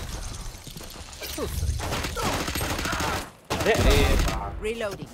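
Rapid gunfire bursts and reload clatter from the tactical shooter Valorant, loud and repeated in quick volleys, with a player shouting over the action.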